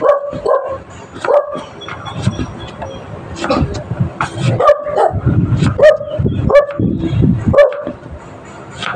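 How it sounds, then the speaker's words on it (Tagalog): A dog barks repeatedly and loudly at a shop, sharp barks in irregular bursts, with a voice and background rumble mixed underneath. "aso ko po yun"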